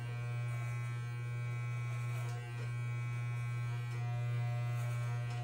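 A 1.5 guard electric hair clipper buzzes steadily and close during a boy's fade haircut, a constant mains-like hum running alone without pause for the whole stretch.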